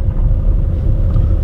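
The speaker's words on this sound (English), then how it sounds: "You'll have to edit my gearbox noise out" Steady low rumble of a car engine and drivetrain while driving, a continuous droning hum with no voices.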